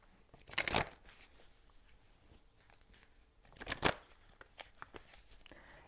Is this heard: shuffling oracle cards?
yes